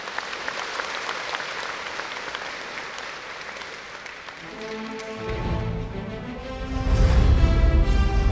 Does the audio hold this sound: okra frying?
no